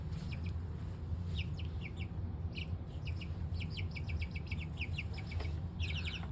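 Backyard chickens kept in a big outdoor coop, giving a continuous stream of soft clucks and chirpy calls over a steady low rumble of background noise, with no talking.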